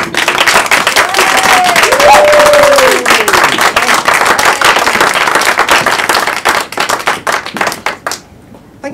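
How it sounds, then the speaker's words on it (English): Applause from an audience at a live performance by a trans comedian, loud, close clapping with a few whoops, tapering into scattered claps before fading out near the end. "Applause already."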